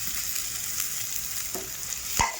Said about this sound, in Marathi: टोमॅटो बी मस्त असे परतायचे